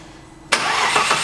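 Starter motor on an Audi S4 bi-turbo kicks in abruptly after a quiet moment and cranks steadily as a loud, coarse whirring churn, with no voices over it.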